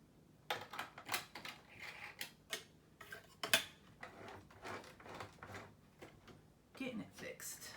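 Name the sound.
fixing a jammed bottom bobbin on a sewing machine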